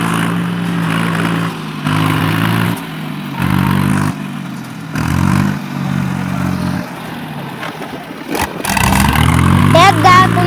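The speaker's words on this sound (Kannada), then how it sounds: "ಹೆಂಗ್ ಹಗ್ಗ ಕಟ್ಟಿ ಜಗ್ಗಾಕತ್ತಾರ ನೋಡ್ರಿ ಟ್ರ್ಯಾಕ್ಟರ್" A tractor stuck in rainy-season mud on a farm track is hauled out with a rope, its engine labouring in rough surges and revs, broken by loud talk throughout and a clattering strain near the end.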